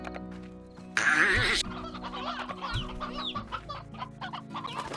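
Chickens cluck in the Slime Rancher video game: a loud, dense burst of clucking up close, followed by scattered fainter clucks and squawks over a steady droning game background.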